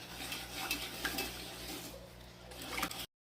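Whisk stirring vegetable oil, eggs and sugar in a bowl for pumpkin bread batter, producing steady scraping and clinking against the bowl, fairly close and continuous, with no talk.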